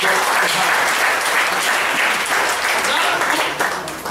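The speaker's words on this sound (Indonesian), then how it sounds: "kita kasih tepuk tangan yang meriah." A congregation at a Sunday morning church service breaks into loud, dense applause with cheering voices mixed in, sustained throughout and close.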